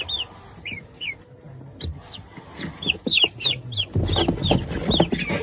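Young Andijan breed chicks cheep and peep in quick repeated calls, close by, growing busier and louder toward the end with soft clucking and shuffling underneath.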